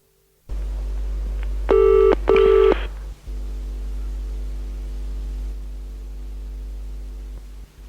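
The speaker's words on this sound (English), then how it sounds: "Ringing up to try and get through to John Loader" Telephone line humming, then two short bursts of dialing tones close together, followed by the steady line tone continuing with no voices.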